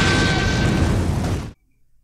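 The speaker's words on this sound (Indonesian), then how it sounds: "si Tommy dia malah kejebak di dalam mobil yang mau meledak ke jurang." A loud, sustained roaring blast of a car exploding over a ravine in a film rumbles for about a second and a half, then cuts off abruptly into near silence.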